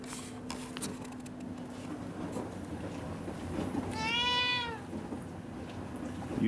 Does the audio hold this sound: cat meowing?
yes